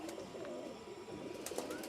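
A giribaz flying pigeon of Pakistani or Rajshahi stock coos in low, throaty rolls, close and fairly quiet over a steady background hum.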